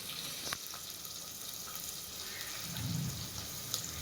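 Onions with a pinch of salt sautéing in a pan for quick sambar rice, a soft, steady sizzle with faint clinks, close and without talk.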